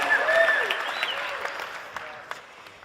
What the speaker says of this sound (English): All right, come on, round of applause.